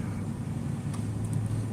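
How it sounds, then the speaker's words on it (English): A steady, low engine rumble from an old 1990s sedan, holding constant and fairly loud throughout without revving up or down. "You're gonna get a roaring old 90s sedan."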